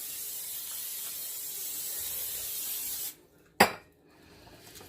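Cooking spray hissing onto a hot grill, a steady airy spray lasting about three seconds, then it cuts off, followed by a single sharp metallic clank.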